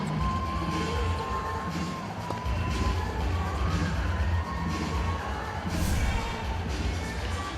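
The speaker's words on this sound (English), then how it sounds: "This is why the crowd is so happy." A tennis match crowd cheers and shouts continuously, a dense roar of many voices filling the venue with swelling bursts of applause-like noise throughout.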